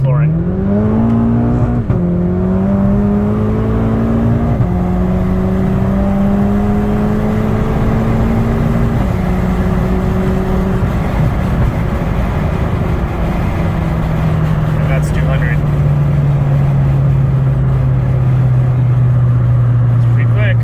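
A Volkswagen MK6 GTI with a big turbo pulls hard at full throttle from about 80 km/h, engine pitch rising through several gears with quick drops at each shift, loud and close inside the cabin.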